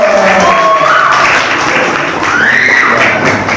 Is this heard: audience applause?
yes